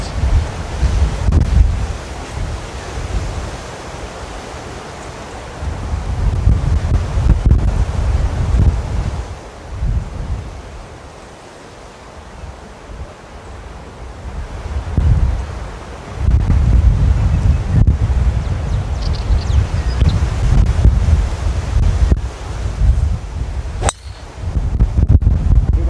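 Strong wind buffets the microphone on an open golf course, a steady low roar that surges in gusts and briefly eases before building again, with no talk over it.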